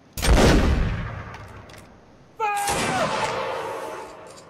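Two heavy booming video game cannon blasts, a couple of seconds apart, each a sharp loud report decaying into a rumble, the second followed by a ringing metallic tone.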